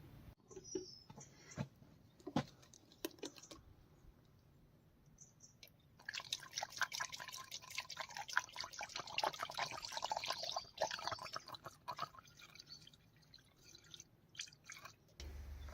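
Antifreeze coolant glugs and trickles as it is poured into the cooling system of a Kioti K9 tractor, with a steady liquid pour in the middle stretch between scattered drips and small knocks, close and fairly quiet.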